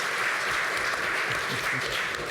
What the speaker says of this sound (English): if you consider yourself a camper, please applaud